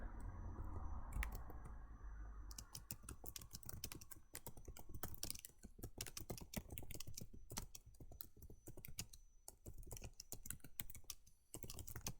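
Rapid typing on a computer keyboard while writing a code comment in NeoVim, a steady close stream of clicking keystrokes with brief pauses and no talking.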